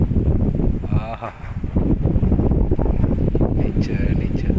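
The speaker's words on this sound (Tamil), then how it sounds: "மழை இல்லை, ஆனால் காற்று செம்ம காற்று." Strong wind gusts outdoors at night on a trek, a heavy, rumbling roar buffeting the microphone continuously, with a voice speaking briefly over it.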